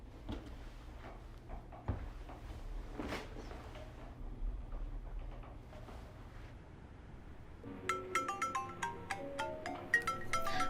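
A mobile phone ringtone starts partway through, a bright repeating electronic melody that rings out clearly after a stretch of quieter room sounds, with soft knocks and shuffling.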